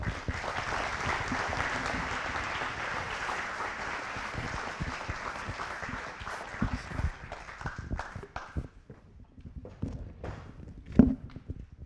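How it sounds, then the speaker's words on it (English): An audience applauds at a San Antonio District 8 State of the District event, with sustained clapping that gradually thins into scattered claps and footsteps. "Let's give another round of applause"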